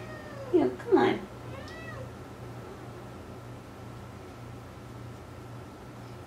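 A pet cat meows twice in quick succession, close and fairly loud, then gives a softer trailing meow, over a low steady background hum.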